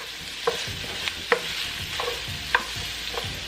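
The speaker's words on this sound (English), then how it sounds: "we're going to start sauteing the vegetables" Onions and vegetables sautéing in olive oil in a pan for restaurant-style pepper steak, with a steady close sizzle broken by several sharp clinks and scrapes of a stirring utensil.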